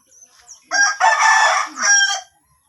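A fighting rooster crows loudly and close by, one long strained cock-a-doodle-doo with a few soft clucks before it.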